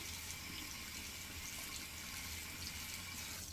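Very hot tap water runs steadily over a safety razor in a sink, a faint, continuous hissing splash with no pauses.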